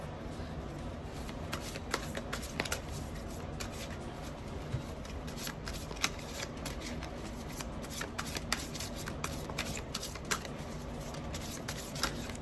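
Paint chip oracle cards are shuffled over and over, a rapid run of crisp riffling flicks and taps up close that keeps going evenly with no pauses.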